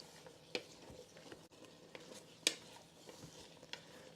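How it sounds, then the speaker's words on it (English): Carrots and peas for shepherd's pie are stirred in a pot, with soft scraping and a few sharp spoon clinks against the side over a low background. "And give this a stir."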